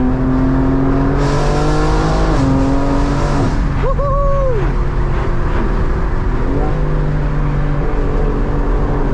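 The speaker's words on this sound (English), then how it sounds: "I'm gonna let you guys hear the pure noises of the downpipe." A car engine roars loudly and steadily through an aftermarket downpipe, its exhaust revving up and down in pitch with a harsh, droning note, close up.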